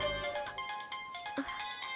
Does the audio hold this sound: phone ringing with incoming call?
yes